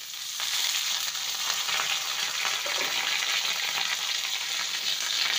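Cauliflower florets hit hot oil in a pan and sizzle steadily and loudly, a continuous close frying hiss with faint stirring scrapes and no talking.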